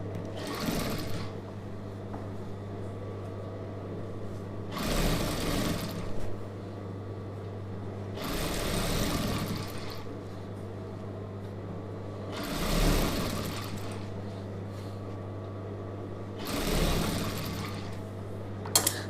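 A sewing machine stitches a border onto the neck of a star-neck chudidhar, running in five loud bursts a few seconds apart over a steady low motor hum, with quiet pauses between the runs.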